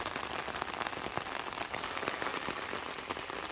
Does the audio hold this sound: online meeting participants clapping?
no